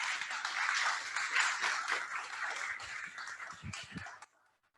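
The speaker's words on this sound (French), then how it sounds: "sous vos applaudissements, s'il vous plaît." Applause from a conference audience greeting a webinar speaker, a dense, steady patter of many hands that stays fairly even for about four seconds and then cuts off abruptly into near silence.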